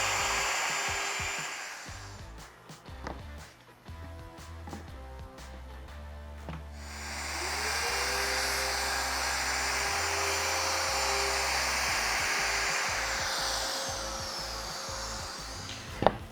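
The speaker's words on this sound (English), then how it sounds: "I choose to use the MFK 700." A Festool MFK 700 router fitted with a straight bit and a 1.5 degree angled base cuts wood for frameless and face frame cabinets, giving a steady, loud high whine that holds for most of the stretch after a few brief starts and clatters.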